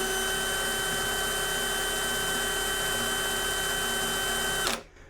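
A DeWalt cordless impact drill running unloaded at 2000 RPM in drill mode gives a steady, high motor whine close by, then winds down and stops near the end.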